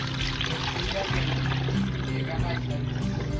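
Water soaked with banana peels, a foul-smelling homemade fertilizer, is poured out in a steady, close splashing trickle while someone talks over it.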